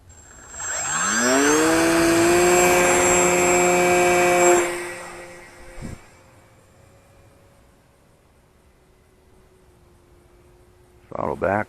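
An electric Fun Cub RC model airplane with a 1100mm wingspan, EPO foam, rises to a loud whine as its propeller spins up, holds a few seconds, then fades to a faint distant drone, with brief voices near the end.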